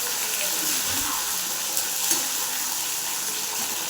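Eggplant sizzles and fries steadily in hot oil in a pan for brinjal pachadi, a close, constant crackling hiss with faint stirring clicks, no pauses.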